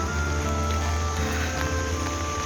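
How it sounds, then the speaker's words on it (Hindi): Steady rain falls continuously at an even, fairly loud level, a dense wash of drops on surfaces with no pauses or voices. "बारिश हटने का नाम नहीं ले रही है"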